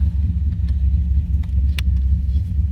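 Street rod cars rolling out in a group run at a hot rod nationals event, a steady deep engine rumble close by with faint clicks and knocks on top.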